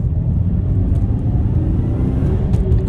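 A Subaru Impreza WRX STI with the 2.0-litre EJ20 flat-four, four-wheel drive and about 91,000 km on it, accelerates under throttle, its engine rumble loud and steady throughout with no talk over it.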